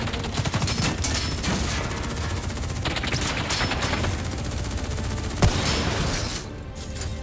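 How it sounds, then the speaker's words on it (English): Sustained gunfire from a battle in Call of Duty: Black Ops 3, set in Singapore, rattles on without a break as dense, loud shooting with a sharper crack near the end. "Who's shooting?"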